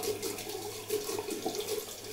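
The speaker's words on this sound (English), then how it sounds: "Just gonna rinse it in some medium water, like that." Running tap water splashing over a 70/30 badger-boar shaving brush as it is rinsed, a continuous close gurgling stream with no voices.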